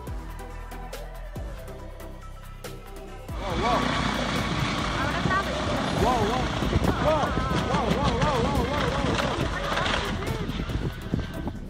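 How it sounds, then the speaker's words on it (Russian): A rescue helicopter struggling to climb in thin mountain air sets up a loud, continuous roar of rotor and engine that begins abruptly, while a voice narrates over it. "Именно это и произошло с этим спасательным вертолетом."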